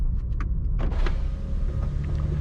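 A 2025 BMW M4 Competition convertible's roof folds down, a steady electric motor whir with faint mechanical clicks and thuds running throughout at close range.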